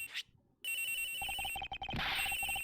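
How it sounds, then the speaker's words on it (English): A cell phone rings inside a locker in the Ace Attorney Investigations video game, a steady electronic ring repeating rapidly and loud over game music after a brief quiet gap, with no talk. "The ringing's coming from here, sir."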